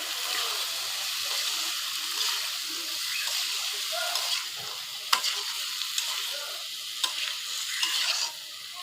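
Chopped potatoes tossed into a pan with fish and stirred, giving a bright sizzling hiss with wet stirring and a few sharp knocks of the utensil, close and continuous.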